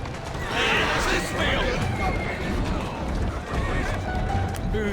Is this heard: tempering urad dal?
no